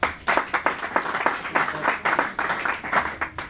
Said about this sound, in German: Und vorerst letzter Applaus für die beiden Trainer